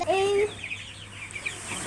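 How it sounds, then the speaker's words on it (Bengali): Chickens and chicks on a small farm, with a few high chick peeps and clucking-like calls heard close in a short burst over faint background noise. "এখানে অনেকগুলো মুরগির বাচ্চা আছে"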